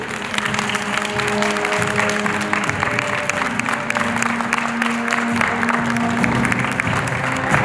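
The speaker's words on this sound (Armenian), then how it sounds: "բարահեղ ծափեր։" Loud, sustained applause from a crowd at a graduation-style ceremony honoring soldiers and their mothers, dense clapping continuing steadily for several seconds with faint sustained tones underneath.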